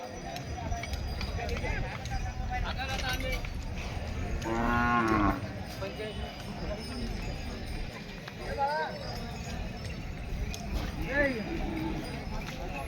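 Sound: bull at cattle market

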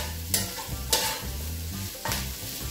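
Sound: stir-frying vegetables in oil for gobi fried rice

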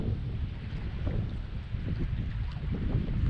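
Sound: strong wind blowing on a fishing boat

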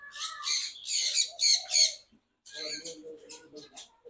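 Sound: caged songbird calling at a bird market

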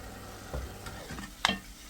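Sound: minced meat and onion sautéing in olive oil

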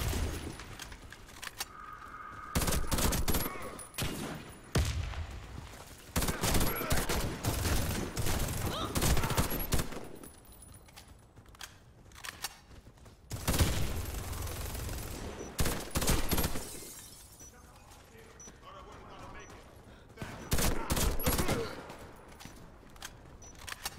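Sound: gunfire from the video game Warface

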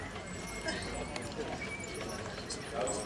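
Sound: horses' hooves clip-clopping at a steam fair

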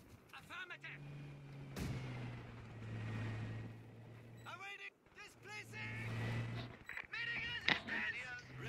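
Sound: artillery strike in video game Company of Heroes 2

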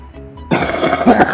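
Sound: cough

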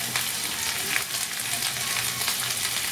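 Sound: onions and bell pepper sautéing in a pan

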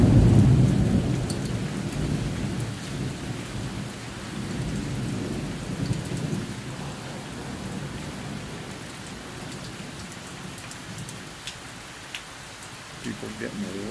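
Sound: late summer thunderstorm with thunder and rain

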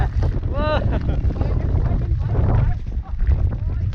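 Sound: strong storm wind

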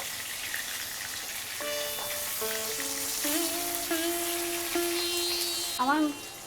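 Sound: bhetki fish pieces frying in a pan

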